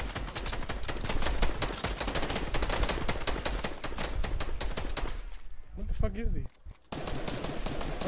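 Rapid, near-continuous gunfire in a Fortnite squads match, loud dense bursts of shots rattling almost without pause, with a brief quieter gap near the end before the firing resumes.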